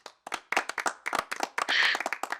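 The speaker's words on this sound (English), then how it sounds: "Let's give a warm round of applause to all of the judges." Sparse audience clapping for the judges at a pitch competition event: a handful of close, distinct handclaps in an uneven rhythm that briefly thicken into a short burst of fuller applause before breaking apart again.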